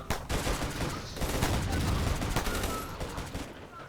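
Gunfire from a battle in RimWorld, with a dense stream of overlapping shots and bursts that stays loud and continuous throughout before easing slightly at the end.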